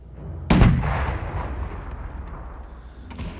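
A single loud cannon blast in the sailing video game Sail, a sharp deep boom at the start that rolls off into a long fading rumble, alone with no talk, with a faint second thud near the end.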